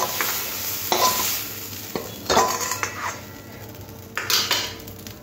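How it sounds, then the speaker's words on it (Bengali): Shrimp fry in hot oil in a pan, sizzling close up while a metal utensil stirs and scrapes in several bursts against the pan. "চিংড়ি মাছটা এইরকম ভাজতে হবে, বেশি কড়া করে ভাজার দরকার নেই"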